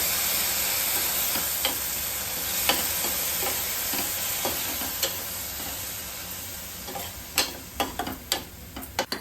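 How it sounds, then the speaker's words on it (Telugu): A ginger, garlic and mint paste sizzles and fries in a pan over a low flame while a utensil stirs and scrapes, the clicks sharpening and coming in quick bursts near the end. "అల్లం వెల్లుల్లి పుదీనా ఆ మిశ్రమం కూడా వేసుకొని బాగా ఫ్రై చేసుకోవాలి"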